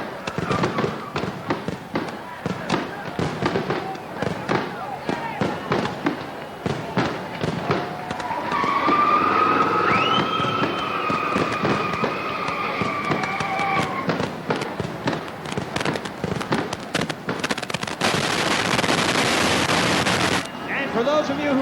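Fireworks burst over Oswego Speedway during the International Classic, a dense run of sharp cracks and booms crowding one another, with whistling shells rising midway and a loud crackling barrage at the end; people talk faintly underneath.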